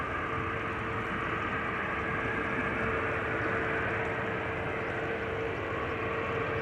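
A Delta Airbus A330 rolls onto the Polderbaan runway at Amsterdam Schiphol, heard as a steady, distant broadband jet roar with a faint whine, constant in level throughout.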